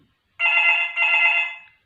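A telephone rings once with a bright electronic trill, a short double burst lasting about a second and a half, loud and close against an otherwise silent room.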